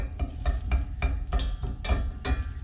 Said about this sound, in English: get our mirepoix coated with a little olive oil